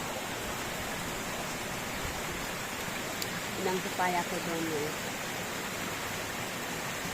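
Heavy typhoon rain with strong wind forms a steady broadband wash through the whole stretch, close and continuous, while a person talks briefly over it near the middle.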